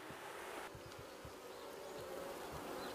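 Honeybees buzz densely in an opened beehive, a close, steady swarm hum with individual bees droning past, no talk.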